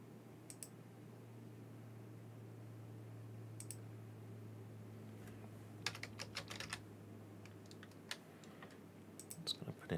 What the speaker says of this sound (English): Just going to put in our email address and then our password.